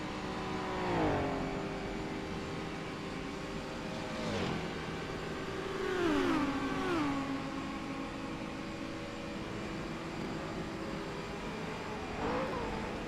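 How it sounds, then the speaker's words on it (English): A racing engine screams past several times down a long back straight during a two-hour race at Longford, rising and falling in pitch as it accelerates and downshifts under hard braking, fairly distant and steady between passes. "Just letting you hear the engine noise down the long back straight, hard on the brakes."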